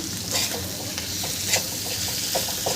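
Black masala being mixed into dry-style bitter gourd bhaji frying in a pan, with a steady sizzle and a few soft spoon scrapes and stirs, close and fairly loud, no talking.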